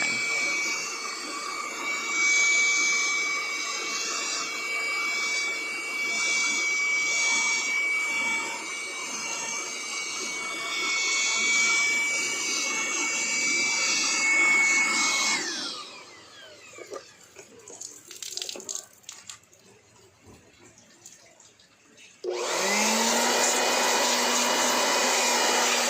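Vacuum cleaner run in the back of a 2022 Isuzu Mu-X, a close steady roar with a high whine for about fifteen seconds, then cut off to rustling and faint shuffling before the motor starts up loud again.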